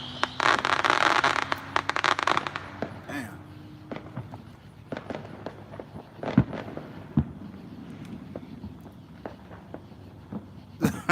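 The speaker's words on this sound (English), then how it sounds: "got some good fireworks, man." Fourth of July fireworks crackling and popping at a distance, a dense burst of crackle early on followed by scattered sharp bangs and snaps, with occasional voices in the background.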